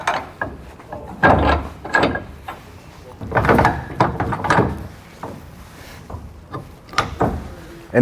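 An adjustable Curt two-ball trailer hitch mount is pulled out of the receiver and flipped, giving a series of loud, close metallic clunks, scrapes and rattles at irregular intervals.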